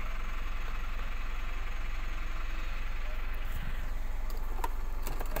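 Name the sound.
Mitsubishi Pajero Sport engine idling after starting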